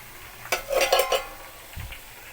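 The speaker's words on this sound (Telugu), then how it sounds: "ఈ పచ్చిమిర్చి కూడా ఇంత వేసేసేసినామంటే దాంతోపాటు ఇది కూడా వేగిపోతుంటుంది" Green chillies fry in a pan with a few quick metallic clinks and scraping stirs in a short cluster, followed by a faint soft knock, over a low frying hiss without talking.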